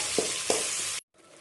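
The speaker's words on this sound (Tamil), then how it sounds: "இப்போது நம்ம இதில் அரைச்சி வச்சு பேஸ்ட்டை ஆட் பண்ணிக்கிறோம்." Ground mint paste hits hot oil in a pan for a rice lunch-box dish, giving a loud, steady sizzle with two sharp spits near the start, then cutting to near silence after about one second.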